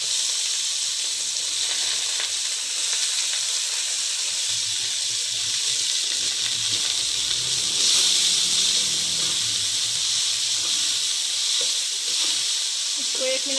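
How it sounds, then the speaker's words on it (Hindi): Capsicum and cabbage stir-frying in a hot pan give a steady, close sizzle and hiss throughout, with faint scraping as the vegetables are stirred. "इसको 1 मिनट के लिए हम स्टर फ्राई करेंगे और इनको निकाल लेंगे"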